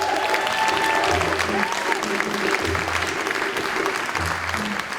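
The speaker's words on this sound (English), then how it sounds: "Give her another round of applause" An audience at an awards ceremony claps enthusiastically in sustained applause, with cheers and voices mixed in and music playing underneath.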